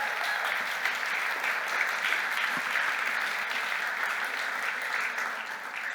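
Steady, dense applause from a live audience at an evening panel event, filling the room evenly for about six seconds and tapering slightly at the end, with no speech over it.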